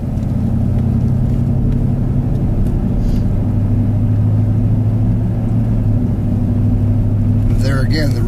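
A four-wheel-drive vehicle in 4 high drives on an icy road near the Tulameen River, its engine a steady low rumble held at high RPM throughout, with a brief squeal-like burst near the end.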